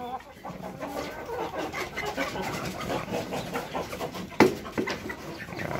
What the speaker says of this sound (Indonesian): Ini ayam serama